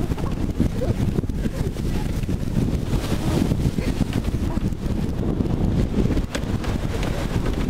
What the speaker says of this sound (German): Der Wind ist stärker geworden auf alle Fälle gegenüber vorhin.